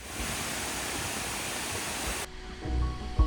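Steady roar of rushing water from a waterfall in Bohol, Philippines that cuts off abruptly partway through, followed by quieter sounds and a short low thump.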